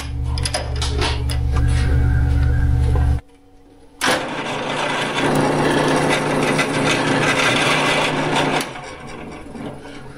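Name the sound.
drilling out a hole for a chainsaw mount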